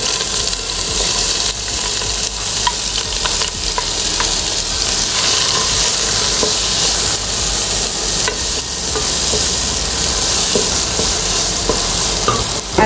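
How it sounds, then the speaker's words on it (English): Three kinds of sliced capsicum and spring onion fry in a hot pan with a loud, continuous sizzle, frequent clatters and scrapes of stirring, and no talking throughout. "I'm using 3 types of capsicum only, and some spring onion. Let's add this to the pan."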